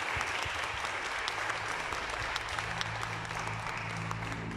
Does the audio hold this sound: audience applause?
yes